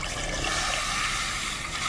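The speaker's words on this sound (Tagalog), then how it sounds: "Lagyan ng tubig," Water pours into a cooking pot to make a chili broth, a steady, close trickling gush that runs without a break through the short moment.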